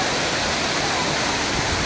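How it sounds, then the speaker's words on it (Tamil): Dense, steady roar of a waterfall heard up close at a family bathing spot, loud broadband rushing water filling the whole clip. "அருவி பக்கத்துலேருந்து எடுக்கிறோம்."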